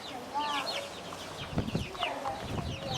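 Hens clucking at a farm as people prepare to feed them breakfast, with repeated soft clucks and a few louder calls at moderate distance under low background chatter and murmuring voices.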